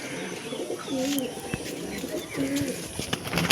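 A pair of Punjabi pigeons coos nearby, two clear low rolling phrases about a second apart, with light rustling and faint background sounds between them.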